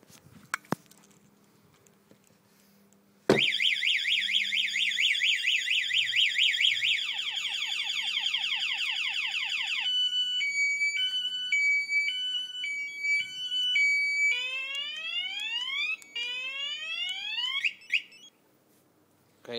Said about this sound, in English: Today we're going to do a little demonstration of a boat alarm,